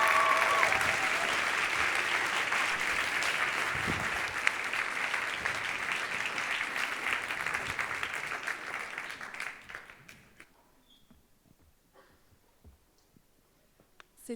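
An audience at the Fête de l'Engagement applauds to welcome the Street Law Clinic, a full sustained round of clapping that holds steady for about ten seconds, then quickly thins out and fades into near silence.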